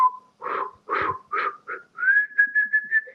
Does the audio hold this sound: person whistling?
yes